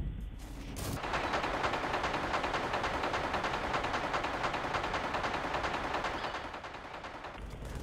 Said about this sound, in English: the assault rifle just sounds, well, stupid